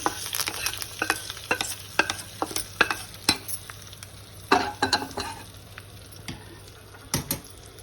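A spoon scrapes and clinks repeatedly in a pan while a soft sizzle runs underneath, the sharp strokes coming in irregular bursts, as a spice tempering is stirred into cooked dal.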